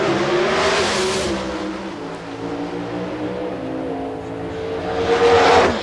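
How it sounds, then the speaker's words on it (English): A 1995 GM drag racing car with a 500 cubic inch engine launches, its loud, steady high-pitched roar rising and falling in pitch as it pulls hard down the strip, with no voices. "The 500 cubic inch maximum displacement engine went through a very slow, methodical staging procedure"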